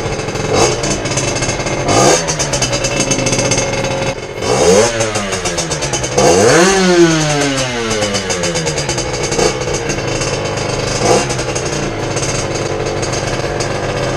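A motorcycle engine after a carburetor jet change, starting up and running with a rough, buzzy idle, then revved up and down in several rising and falling sweeps, loud and close with no talk.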